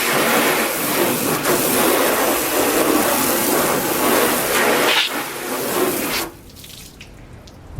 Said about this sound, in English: We'll rinse it off.